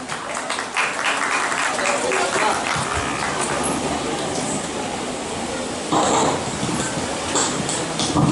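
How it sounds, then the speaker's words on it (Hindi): A church event crowd at St. Sebastian Church applauds Father Vincent, giving a dense, continuous burst of clapping that fills the room. It swells again near the end, with some background voices mixed in. "तो जोरदार तालियां फादर विंसेंट के लिए।"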